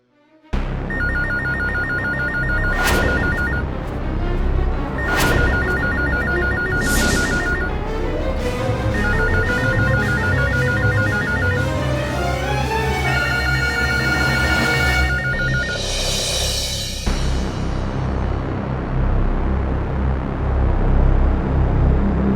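A telephone rings over and over in repeated bursts of electronic trilling, loud and near, with short gaps between rings and a steady background underneath.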